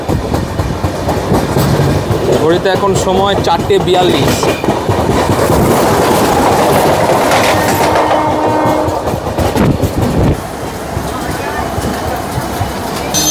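The Tamralipta Express from Digha to Howrah runs into Santragachi junction with loud rolling rumble and clickety-clack, a horn sounding partway, and someone talking over the noise before it eases near the end.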